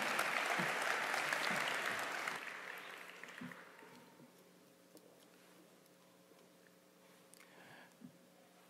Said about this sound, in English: Let's give him a round welcome of applause